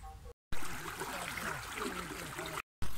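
Irrigation water runs into a wheat field with a steady gurgling trickle, heard close by, broken by two short gaps of silence.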